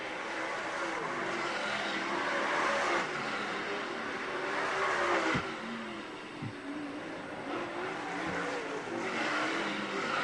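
Dirt late model race cars roar around the Utica-Rome Speedway oval in a Lucas Oil series race, a loud continuous engine drone that swells and fades as cars pass, with brief tire and throttle surges.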